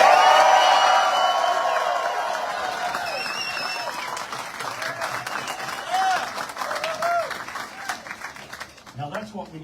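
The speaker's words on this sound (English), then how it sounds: "let's just have a nice big cheer for what you really think about all this on the count of three" A crowd at a bike park ribbon-cutting and opening bursts into loud cheering and applause that gradually fades, with scattered whoops and voices chattering as it dies down outdoors.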